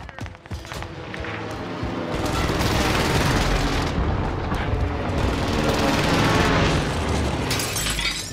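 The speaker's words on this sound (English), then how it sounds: "Allied precision airstrike incoming." Allied precision airstrike explosions in a video game: a dense, loud barrage of booms and rumbling that builds after the first couple of seconds and stays heavy and continuous to the end, with no talk.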